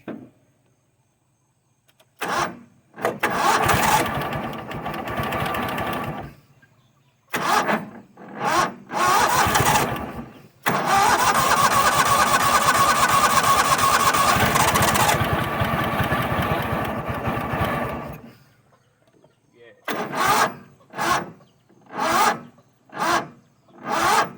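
Toro Wheel Horse 266-H lawn tractor engine cranking on its starter in repeated bursts, a few long grinding runs and many short stabs with pauses between, close and loud with no talk.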